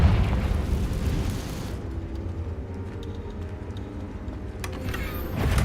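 A Confringo fire-blast spell from Hogwarts Legacy explodes in a loud, rumbling burst at the start, decaying into a low roar with a second smaller boom near the end.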